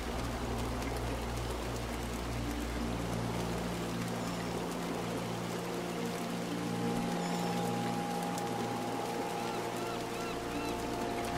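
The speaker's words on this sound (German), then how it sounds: "Der Regen wird immer lauter." Steady rain in the video game Montague's Mount patters continuously as a dense hiss, with low hums and tonal layers underneath and no voices present.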